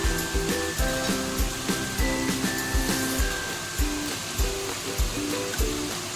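Chicken filling with turmeric, salt, a little sugar and ginger sautés slowly in a pan. A steady hiss of sizzling runs throughout, with soft regular scraping knocks of a spatula over a faint musical tone.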